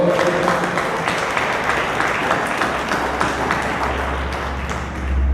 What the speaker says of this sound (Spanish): Dar un aplauso al Señor por esto.